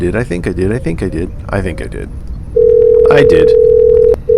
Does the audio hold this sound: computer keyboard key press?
no